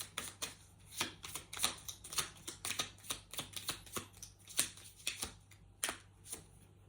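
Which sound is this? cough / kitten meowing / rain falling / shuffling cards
shuffling cards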